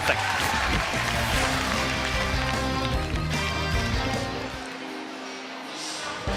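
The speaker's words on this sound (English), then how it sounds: "they get a standing ovation from their crowd" A crowd at a Little League World Series baseball game gives a standing ovation, with broad, steady applause and cheering that fades slightly near the end, mixed with a commentator's voice.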